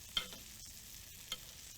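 Fish fillets frying in browned butter in a pan, unsalted, giving a steady soft sizzle with a couple of brief louder spatters and some stirring or utensil contact, heard close with no talking.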